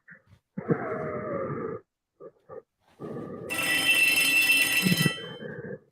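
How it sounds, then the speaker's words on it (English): An electronic ringing sounds in bursts, a short buzzy ring, a pause with small clicks, then a longer, brighter, shrill ring that stops abruptly. "I heard a bell ringing."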